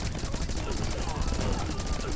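Gunfire from the 2D action game Rocketbirds: Hardboiled Chicken, a dense, steady rattle of rapid shots running through the whole short stretch at a fairly even level, with a voice mixed in.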